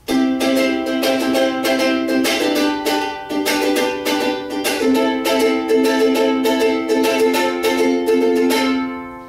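A ukulele strummed in a steady, bright down-and-up rhythm, chords ringing continuously and close, with a brief change partway through before fading out.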